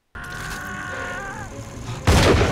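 Enemy gunfire in the video game Bioshock 2 erupts as a loud, dense burst of shots in the final half-second, following a stretch of tonal game music and ambience.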